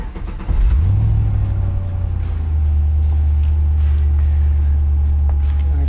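A 1962 Corvette restomod, still cold, fires up and revs once, then settles into a loud, steady, deep idle rumble heard up close with no talking over it.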